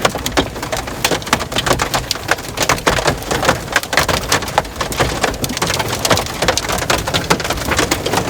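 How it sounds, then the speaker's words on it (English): Dense, loud baseball-sized hail pounds a truck's metal body nonstop, a rapid clatter of hard impacts with no pauses. "Huge ass hail."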